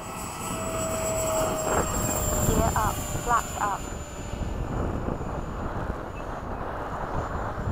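BAE Hawk jet taking off, a steady broad engine roar filling the whole clip with a high whine on top, heard from onboard the aircraft.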